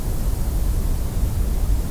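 Dense, steady broadband background noise with both the low end and the high end boosted by 20 dB on a mixing console, a constant rumbling hiss with no gaps and no voices.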